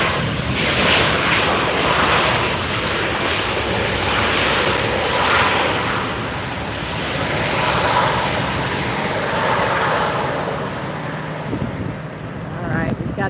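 A Southwest Airlines jet arrives at LAX with a loud, sustained engine roar that swells and eases as it passes, buffeted by wind noise on the microphone.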